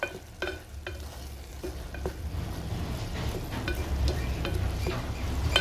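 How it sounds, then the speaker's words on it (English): Okra and green vegetables sizzle in a pan, the frying hiss growing louder while a utensil clacks and scrapes in intermittent stirs close by. "So our veggies are here cooking."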